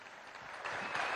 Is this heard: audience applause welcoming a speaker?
yes